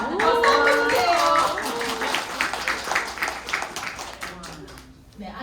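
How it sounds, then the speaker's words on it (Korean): Audience members clap at a talk, a scattered patter of hands that begins under a speaking voice and then thins and fades over several seconds. "박수해주세요."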